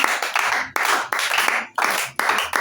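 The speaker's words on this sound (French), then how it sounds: "Je peux acclamer pour Dieu." Church congregation clapping in rhythmic bursts, sharp hand claps repeating in quick runs with brief pauses between, loud and close, with no talking.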